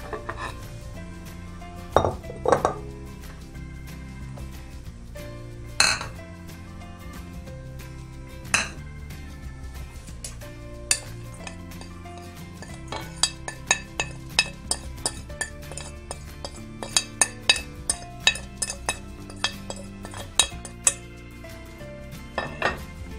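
Spoon clinking and scraping in a bowl while ground chili, coriander powder, turmeric and carom seeds are mixed for spicy roasted potato fries, a busy run of sharp metallic taps and clinks, close and alone.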